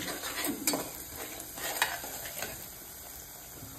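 Semolina for sheera roasting in hot ghee in a pan, a soft continuous sizzle with occasional scrapes and taps of a spoon stirring, close and with no talk.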